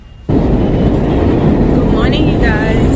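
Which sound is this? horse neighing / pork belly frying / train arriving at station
train arriving at station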